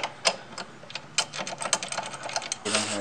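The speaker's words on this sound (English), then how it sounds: "So we need a ratcheting wrench for..." Rapid ratcheting clicks from a wrench working on the rear motor mount of a Ford Focus ST, short bursts of sharp ticks close by with a pause between.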